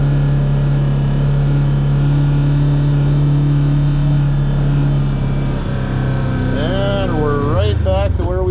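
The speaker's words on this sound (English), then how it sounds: "We're going about 5 miles an hour with the diff lock engaged." A Polaris RZR XP creeps along at about 5 mph with the diff lock engaged, its loud, steady engine drone filling the cabin, then wavering and falling in pitch near the end.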